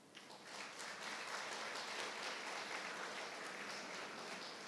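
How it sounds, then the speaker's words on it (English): Sustained applause from a graduation ceremony audience clapping for the graduates' parents, a dense, steady wash of many hands holding at an even level throughout. "The next set of bigger applause should go to your parents."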